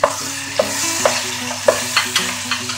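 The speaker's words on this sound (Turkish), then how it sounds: "Şimdi domateslerimizi de ekleyelim." Tomatoes are added to a frying pan for a leek dish and stirred, giving a continuous sizzle broken by several sharp spatula knocks against the pan, close and clear.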